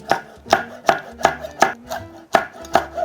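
A knife chops Cheongyang chili peppers, seeds left in, rapidly on a cutting board, eight or so crisp, evenly spaced thuds, close and clear with no talking.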